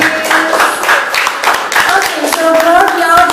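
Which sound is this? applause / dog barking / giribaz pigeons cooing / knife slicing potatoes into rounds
applause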